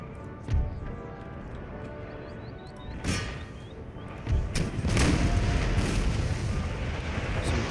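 Cannon artillery booms in an Empire: Total War battle, with sharp individual blasts followed by a heavy, rolling barrage of overlapping explosions that grows loud and sustained.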